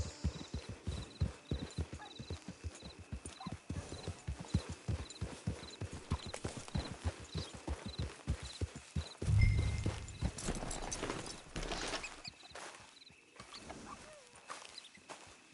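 A horse walks at an even clip-clop, hooves striking steadily and close by for most of the stretch before slowing and stopping, with a brief snort or whinny and rustling near the end, out on an open range near a camp.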